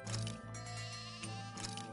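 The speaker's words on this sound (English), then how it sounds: "Actually, sheep again." Sheep bleating in the video game Tales of Arise, a single drawn-out wavering bleat heard up close over quiet game music, with no voices.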